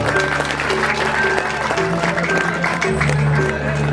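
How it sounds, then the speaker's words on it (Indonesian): An audience at a Balinese Calonarang comedy performance claps steadily for a few seconds over an undercurrent of crowd murmur and faint tonal sounds. "tepuk tangan"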